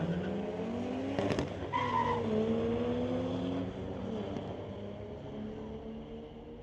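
At a street-legal drag strip night, a 2023 Hyundai Elantra N hatchback and a Skyline launch side by side, with engines rising through gears and a brief tire chirp before the sound fades into a steady distant drone.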